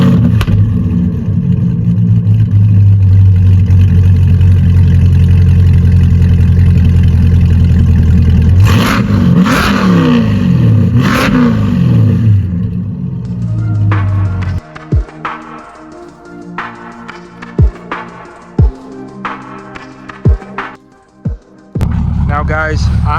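A modified C8 Corvette with a Corsa X-pipe muffler delete and high-flow cats starts up: a loud, deep roar for about fourteen seconds, then a few sharp blips and pops as the engine settles into a rumbling idle.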